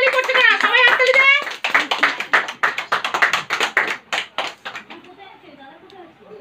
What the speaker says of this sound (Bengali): সবাই হাততালি দাও, হাততালি দাও